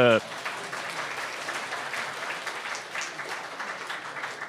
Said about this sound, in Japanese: 大きな拍手の方お願いいたします